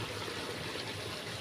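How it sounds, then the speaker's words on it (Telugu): Water is poured into a pot of cooking chicken, a brief, soft, continuous trickling splash heard close by without any talking. "ఇప్పుడైతే వాటర్ అయితే వేసుకుందాము."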